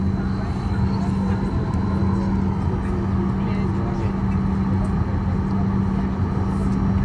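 Inside a Boeing 737 MAX 8 airliner backing up before taxiing, a steady cabin drone with a constant low hum fills the space, while faint voices murmur in the background.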